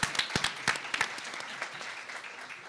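Audience applause at a university panel discussion, a burst of clapping that starts strong and gradually thins out over a few seconds, with scattered individual claps standing out near the front.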